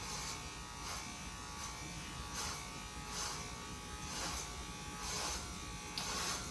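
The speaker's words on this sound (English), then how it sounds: "you just have to run the trimmer of fixed size through the hair to trim them to the same length" Electric hair trimmer with a fixed-size guard buzzing steadily and close up as it runs through hair during a home haircut, with faint rhythmic swells as strokes pass; no talking.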